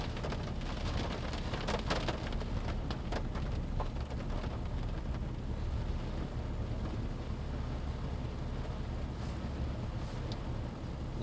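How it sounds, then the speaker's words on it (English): Heavy hurricane rain from Hurricane Debby on St. Simons Island pours in a dense, steady hiss and patter, close and continuous with no voices. "Rain has definitely picked back up again."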